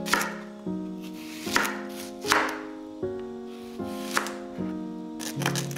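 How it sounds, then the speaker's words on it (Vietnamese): A knife cuts an onion into wedges on a board for Thai steamed clams, giving about eight crisp, evenly spaced chops over steady background music. "Hành tây cắt múi cau"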